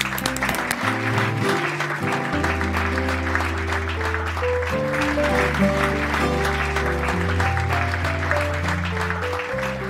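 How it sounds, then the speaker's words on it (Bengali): Loud, sustained audience applause and cheering at a singing competition prize ceremony, steady throughout, with music playing underneath. "সবার জন্য একটা জোরে হাততালি হয়ে যাক"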